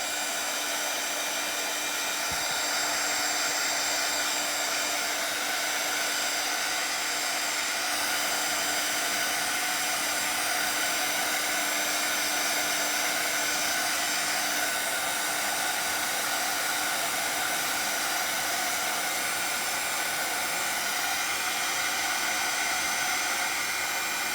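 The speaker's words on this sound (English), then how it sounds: "I'm gonna dry this just a little bit because I don't want the black smearing." A hair dryer dries stencil paint on an address sign with a loud, steady, continuous blowing whir and a faint motor hum, running close and unchanging throughout.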